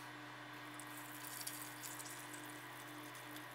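Boiled, sterilised water poured steadily for a liquid soap recipe, a continuous faint trickling stream with a low steady hum behind it and no talk.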